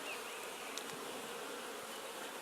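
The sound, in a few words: bees buzzing around a tree, possible swarm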